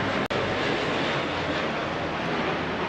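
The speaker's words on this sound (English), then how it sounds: "Two more transport aircraft coming over now." Large military transport aircraft passing overhead at an RAF centenary flypast, a loud, steady broadband engine roar sustained throughout with no pause.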